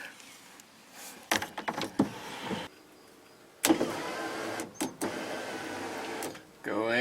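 Whirring of a power window motor in short runs in a third-generation Firebird or Camaro door, with clunks and handling noises, and a person speaking near the end.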